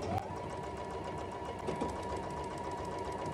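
A sewing machine stitching a single layer of a pajama romper runs steadily at close range, a continuous even whirr with no pauses.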